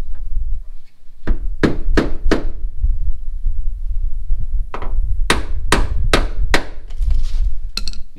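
Repeated sharp hammer blows on metal during bodywork on a two-door Tahoe, a quick burst of four strikes, a pause with one hit, then another run of four, loud and close.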